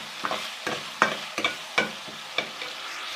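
Garlic-ginger paste fries with onions in a hot pan, sizzling softly beneath about eight close, regular scrapes of a spoon stirring.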